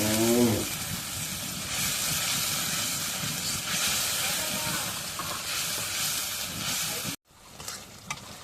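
A spoon stirs turmeric, spices and shati fish sizzling in a hot pan, making a loud, continuous frying hiss with scraping. Sharp clinks follow after a brief cut near the end.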